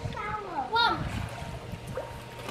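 A child diving into a warm outdoor pool, with a splash in the middle and water sloshing around it, while a voice and other voices chatter nearby.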